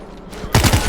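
Burst of gunfire in the zombie shooter World War Z, Moscow level: a dense rapid volley that opens abruptly after a quieter stretch and stays loud to the end, with a speaking voice faintly underneath.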